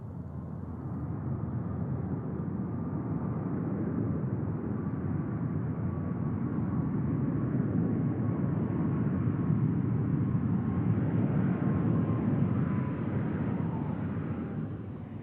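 Southwest Boeing 737 Max jet at Tucson International Airport, a loud, sustained engine roar with a rising whine as it passes, swelling slightly and then easing off over about fifteen seconds, with no speech.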